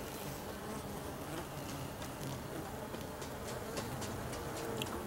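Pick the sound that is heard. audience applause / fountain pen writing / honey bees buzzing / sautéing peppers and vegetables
honey bees buzzing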